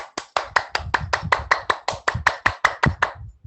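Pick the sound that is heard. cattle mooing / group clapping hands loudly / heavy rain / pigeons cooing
group clapping hands loudly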